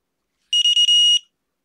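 A homemade ATtiny85-based dog bark detector alarm sounds a loud, shrill electronic buzz for about half a second, stuttering briefly before holding steady, then cutting off into silence.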